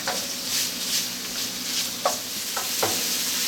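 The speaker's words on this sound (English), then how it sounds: "Now we're cooking these so that we can cook out a lot of this grease." Meat sizzles steadily in a pan as grease cooks out for a deep dish pizza, with a constant frying hiss broken by a few light scrapes of stirring.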